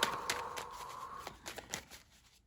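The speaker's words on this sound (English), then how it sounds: "Let's go ahead and shuffle." Tarot cards are shuffled by hand in a quiet room, with a series of soft riffling taps and brief flicks, close and fairly faint, fading out at the end.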